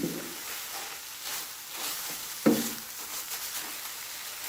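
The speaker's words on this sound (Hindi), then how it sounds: "मैं इसी तरीके से गाजर को भून रही हूँ" Grated carrots roast in reduced milk in a pan, giving a steady close sizzle with scraping stir strokes and one sharper knock partway through.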